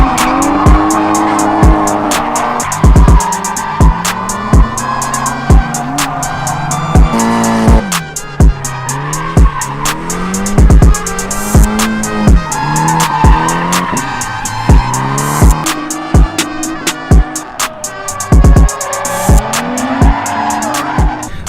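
A Nissan Z drifting, with loud sustained tire squeals and a revving engine that rises and falls across repeated slides, the car staying close throughout with no talking.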